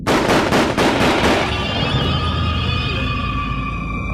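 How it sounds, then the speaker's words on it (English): Gunshots from inside a schoolhouse, a rapid burst of loud, sharp cracks in the first second and a half, then a long ringing, reverberant tail that slowly fades. "A short time later, gunshots ring out from the schoolhouse."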